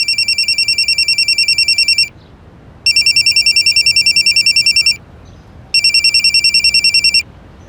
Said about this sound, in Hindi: अगले दिन सुबह निखिल को फोन तो आया, लेकिन यह फोन पवन या उसकी मां ने नहीं किया